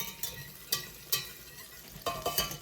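Butter and garlic sizzling in a frying pan on the stove, a soft steady fry with a few sharper scrape-like bursts from stirring, close but quiet, no voices.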